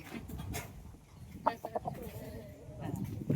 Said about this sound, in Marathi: ह्याच्यात ना कोंबडा पण आहे बघा दिसेल तुम्हाला